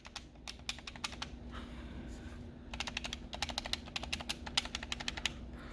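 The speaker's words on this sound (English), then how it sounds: "The buttons are a little clicky." Clicky buttons on a third-party Xbox 360 controller being pressed in quick, rapid bursts of sharp, close clicks, with a pause between two runs over a faint steady hum.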